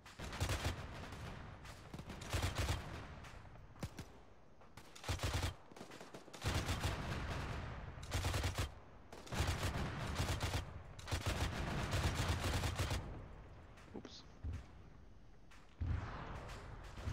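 A gunship in a military video game fires long, dense bursts of heavy automatic gunfire. Loud volleys repeat with short gaps between them across the whole stretch.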